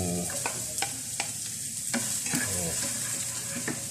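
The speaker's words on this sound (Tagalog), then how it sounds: "Lagyan natin yung sibuyas. Ayan. Onion." Onion frying in oil in a pan, giving a steady loud sizzle broken by sharp scraping stirs at irregular intervals, close up with no talking.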